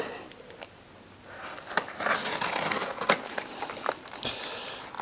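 Straps cut off a boxed Vevor two-shelf welding cart and the carton opened, with crinkling plastic and crushing cardboard rustling in uneven bursts, close and moderately loud, with no talking.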